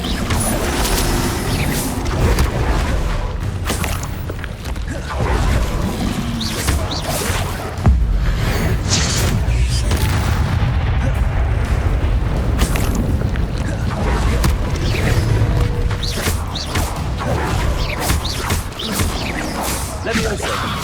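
A Bombarda explosion spell going off in Hogwarts Legacy, a loud booming blast with whooshing and crashing debris, set in dense, continuous game action full of repeated impacts.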